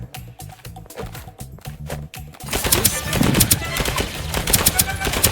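An automated turret in the video game Deceive Inc fires rapid bursts of shots, first clipped regular pops, then a denser, louder barrage with gameplay effects mixed in.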